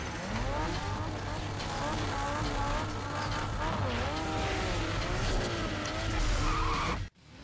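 Need for Speed Underground street-race car roars loudly with tires skidding and squealing throughout, the engine revving hard over a dense game soundtrack before cutting off abruptly near the end.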